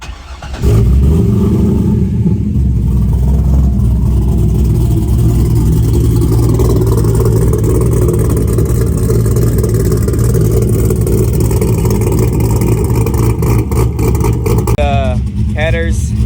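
A Chevrolet Corvette C6 V8 with GPI SS3 cam, headers and exhaust cranks and catches, then settles into a loud, lumpy idle that runs steadily; a voice briefly speaks near the end.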